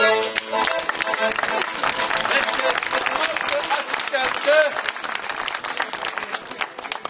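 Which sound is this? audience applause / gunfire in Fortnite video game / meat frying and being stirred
audience applause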